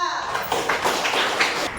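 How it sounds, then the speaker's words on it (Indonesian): Applause from a classroom of students for a classmate, a burst of clapping lasting about two seconds at steady moderate loudness, with a few children's voices mixed in. "Tepuk tangan untuk Mbak Nadifa."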